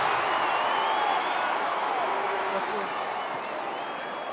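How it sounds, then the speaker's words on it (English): A big crowd at a rugby match in Johannesburg, Lions against Sharks, roars in a steady, dense wash of cheering and applause with a commentator's voice running over it throughout. "Cheered on by the crowd here in Johannesburg"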